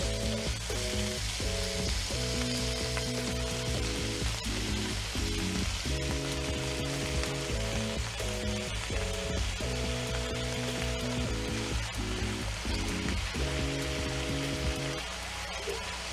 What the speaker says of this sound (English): So now let's add the spinach. Spinach goes in.